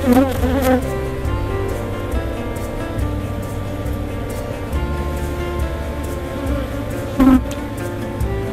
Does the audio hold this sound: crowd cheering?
no